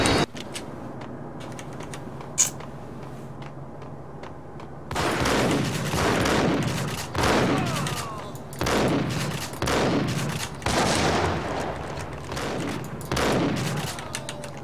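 Shotgun gunfire in the Max Payne video game, with faint ticking and a sharp crack at first, then loud repeated blasts, each booming and rolling off with a long decaying tail.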